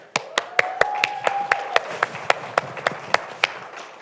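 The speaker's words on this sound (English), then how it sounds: "we give them a standing ovation and a round of applause" Sharp, evenly spaced claps ring out one after another at an oratory competition, a steady rhythmic clapping rather than a full crowd's applause, with a faint tone and murmur underneath.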